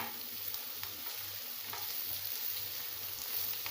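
Spices cooking in hot oil for a Shimla pepper and yogurt dish: a steady, close hiss and crackle of frying runs throughout, with faint occasional stirring taps and no talk.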